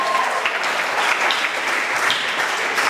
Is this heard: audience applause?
yes